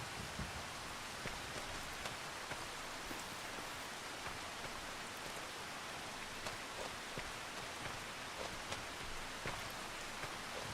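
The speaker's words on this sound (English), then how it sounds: "I'll speed up time so we can get past this rain." Steady rain in the Farming Simulator 25 video game on the Riverbend map, a dense, even hiss of falling drops with scattered faint taps throughout, continuous and moderately loud, with no voices.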